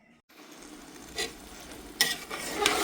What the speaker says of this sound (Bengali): মাংস আর চাল একসাথে মিশিয়ে আমি কষিয়ে নিচ্ছি